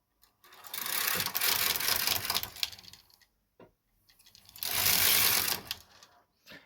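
A domestic knitting machine carriage is run across two rows of yarn, each pass a loud rattling, clicking burst lasting a couple of seconds, separated by a short quiet gap with a few faint clicks.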